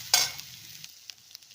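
Freshly grated coconut is sautéed in a pan for coconut rice, opening with a sharp hiss as it hits the hot oil, then quieter sizzling and a few light stirring scrapes.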